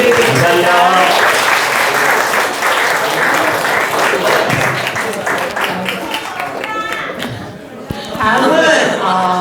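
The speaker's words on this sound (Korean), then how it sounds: "박수로 보내드립니다." Audience applause after a talk at an art fair talk show, sustained loud clapping from a crowd with some chatter mixed in, briefly easing before swelling again.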